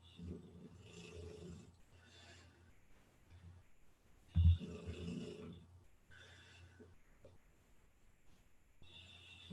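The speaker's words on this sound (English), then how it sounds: "you guys can hear my dog snoring for sure" A sleeping dog snores softly nearby, slow rasping breaths repeating every second or two, with one louder snort midway through the steady rhythm.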